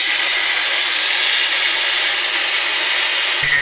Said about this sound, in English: I'm going to angle grind the nut off.